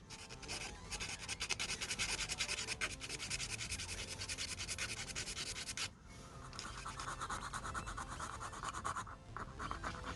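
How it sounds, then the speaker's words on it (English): Plastic being shaved off the base of a Hot Wheels Baja Beetle toy car so new wheels fit, a close, continuous dense scratching and rasping that pauses briefly near the middle, then resumes, with no talking. "I'm shaving a little bit from the plastic part here in order to fit my new wheels"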